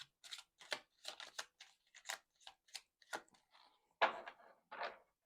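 Tarot cards being shuffled by hand during a love reading, heard as a run of crisp, close riffling bursts in a quick uneven rhythm, with a heavier flurry near the end and no talk.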